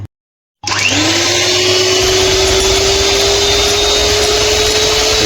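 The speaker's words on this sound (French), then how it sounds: "vous la battez, vous lui incorporez de l'air dedans avec soit un batteur électrique ou soit à la main pour qu'elle s'épaississe" An electric beater whipping cream into chantilly, switching on after a short silence and then running as a loud, steady whirring drone, close and alone.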